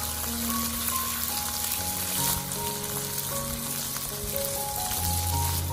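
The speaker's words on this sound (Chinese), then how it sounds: "油热之后再把虾倒进来，先用铲子将它铺平，用葱油把虾煎香。" Shrimp spread flat in hot scallion oil in a wok give a steady, soft hiss of frying that runs continuously beneath prominent melodic background music.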